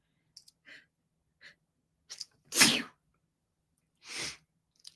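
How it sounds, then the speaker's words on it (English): A single close, sharp sneeze bursts out after a few small breaths and sniffs, followed by another breathy exhale; no talking. "I feel like I have to sneeze."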